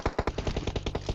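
Rapid automatic gunfire in PUBG Mobile, a fast steady burst of about a dozen punchy shots in even rhythm, close and prominent with no talking.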